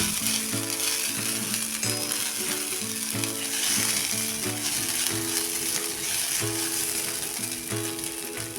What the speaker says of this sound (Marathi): आणि हे अर्धा चमचा साखर पोहे चांगले गरम होईपर्यंत परतून घेऊया